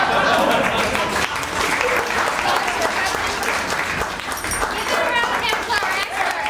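Loud, sustained applause from a student show audience, a dense rolling wash of many hands clapping with some faint background voices mixed in, holding steady throughout.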